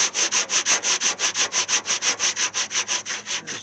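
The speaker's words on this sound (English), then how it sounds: "I just sanded off my Bondo here with 40 grit" Bondo body filler on the front quarter panel of a 1968 AMC AMX being sanded with coarse 40 grit sandpaper: steady, loud rhythmic back-and-forth rasping strokes, about five per second, close up with no talking.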